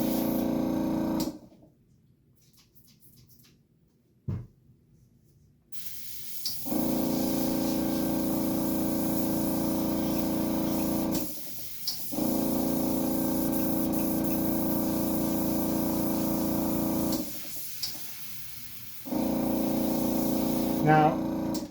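An airbrush hisses in long steady bursts while applying FX makeup, with brief pauses between sprays.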